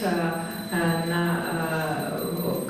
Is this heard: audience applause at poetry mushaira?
no